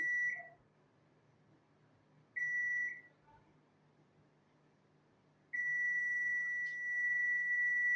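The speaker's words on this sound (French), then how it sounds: "Alors, on a un bip sonore." A multimeter continuity test on a dead phone gives a steady high-pitched electronic beep three times: two short tones, a pause, then one long continuous tone over faint background hum.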